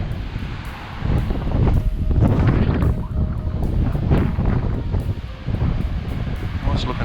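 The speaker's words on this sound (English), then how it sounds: "It's the wind." On the Australian coast, strong wind buffets the microphone in loud, gusty rumbles that rise and fall, while a voice speaks briefly beneath it.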